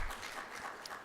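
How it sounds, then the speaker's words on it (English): Audience applause for SCDC board members standing at a Minority Investment Managers Forum, a brief, steady wash of clapping from a crowd with no voices over it. "Can you give them a round of applause?"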